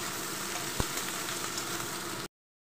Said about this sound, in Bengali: এখানে পেঁয়াজটা দিয়ে দেবো তেলের মধ্যে।